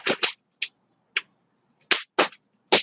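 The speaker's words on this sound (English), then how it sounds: "I don't know if y'all can hear that wood popping in the background over there." Firewood pops and crackles in a fire in a set of sharp, separate snaps, some close together in pairs, with silence between them and no talk.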